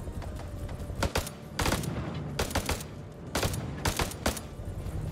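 AK-47 rifles firing in the video game House of Ashes: repeated loud bursts of automatic fire in irregular clusters over a constant rumbling battle background.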